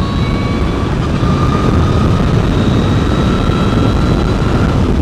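A Brammo Empulse R electric motorcycle pulling hard through its gears on the road, a loud, steady rush of wind and motor with a thin rising electric whine running through it.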